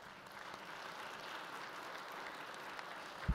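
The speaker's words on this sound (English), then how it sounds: "Let's give them a round of applause." Applause from an audience at the American Farm Bureau Federation president's annual address, steady and moderately distant, holding an even level for about three seconds before a brief thump at the end.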